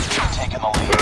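LMG fire in the mobile game Call of Duty Mobile gives a loud, dense rapid burst of gunshots filling one second.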